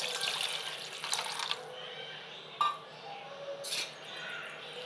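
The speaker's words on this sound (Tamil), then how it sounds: "இப்போ நம்ம புளியும் தக்காளியும் கரைச்சி வச்ச தண்ணியை ஊற்றிடலாம்" Tamarind and tomato water is poured into a pot of rasam in a few splashing bursts, with light clinks and a quiet background.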